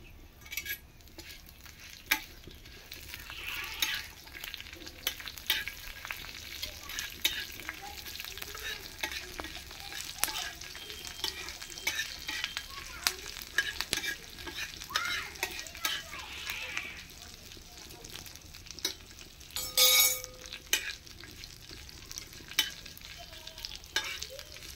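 Black mustard seeds and curry leaves sizzle and crackle in hot oil, a steady frying hiss dotted with sharp pops and occasional stirring clinks, continuing without voices.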